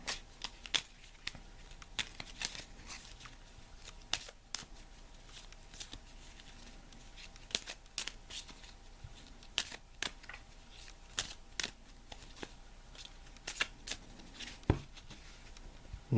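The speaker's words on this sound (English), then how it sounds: "taking the deck in hand, I'm going to shuffle the cards" A deck of Lenormand cards is shuffled by hand in repeated crisp riffles and slaps, close and clear against a quiet room, with no talking.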